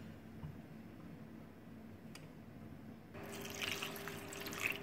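Water poured into a pot of partly cooked rice, potatoes and spices for tehari, a steady liquid trickle and splash that grows louder and busier in the final seconds, close by with no talk.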